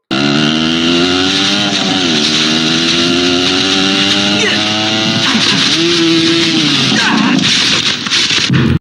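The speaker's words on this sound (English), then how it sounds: "there's like a really funky bike wreck here too" A motorcycle crash scene from the Bruce Li film Return of the Tiger plays as a loud, continuous engine roar with shifting revs and scraping, clattering noise, with a voice speaking over it.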